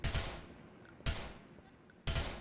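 Three sharp gunshots in a GTA video game ring out about a second apart, each a loud blast followed by a fading echo and faint metallic clinks between.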